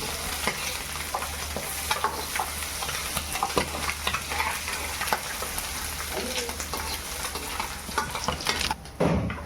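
White sardine river fish frying in oil, a steady close hiss of sizzling with scattered crackles and pops running throughout, dipping briefly near the end.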